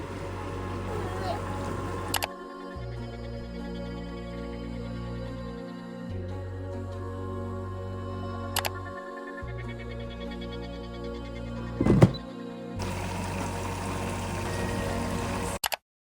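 A baby bottle washer runs in a home kitchen at breakfast time, a steady motor hum with water churning, pausing and restarting in cycles, with occasional clicks and thumps close by.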